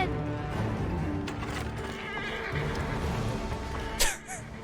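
A horse in the game Assassin's Creed Origins neighs once near the end, a short shrill whinny over a dense, rumbling in-game background with no talking.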